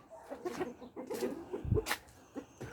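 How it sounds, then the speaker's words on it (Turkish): Ameraucana chickens clucking in a coop, soft intermittent clucks and short calls close by, with quiet rustling between them. "Gel şurada bak tavuklar."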